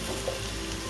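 Cumin and spices hitting hot oil in a karahi, a dense, steady sizzle and fry heard close up for about a second, with no voices.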